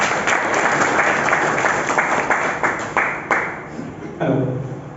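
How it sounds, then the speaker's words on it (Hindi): An indoor audience breaks into loud, close applause that rolls on with distinct claps, then fades as a voice begins speaking near the end. "एक शानदार ताली हो जाए।"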